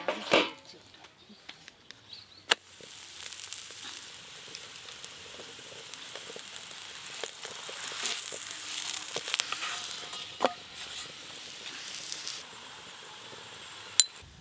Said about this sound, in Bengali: ঘি দিয়ে আলুর পরোটা ভাজা হচ্ছে